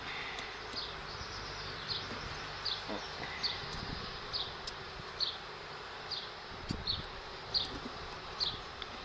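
Honeybees in an opened hive holding a hybrid swarm give off a steady, agitated hum. Sharper buzzes of single bees rise above it in a regular pattern, and faint rustling and handling noises sit underneath.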